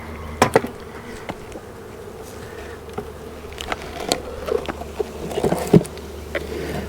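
Honeybees buzz around an opened hive outdoors during a swarm-cell inspection, a steady low drone with scattered louder passes of individual bees flying close by.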